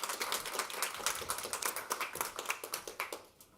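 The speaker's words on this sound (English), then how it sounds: "Thank you for your pitch about BlueVac. An applause for David" An audience applauds at an EU industry event after a startup pitch, a modest crowd clapping with clearly separate individual claps that thin into a sparse, rhythmic patter toward the end.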